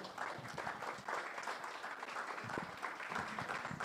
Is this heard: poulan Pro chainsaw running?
no